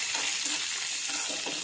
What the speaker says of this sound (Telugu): ఇప్పుడు కరివేపాకు వేసేద్దాం.